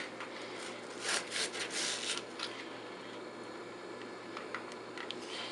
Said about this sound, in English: so we're going to kind of chop it finely